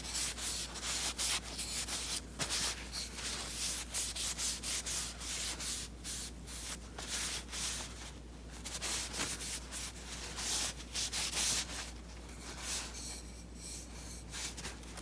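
A wooden reed hammer is sanded by hand in a workshop: continuous close, rhythmic abrasive rubbing strokes with no talking.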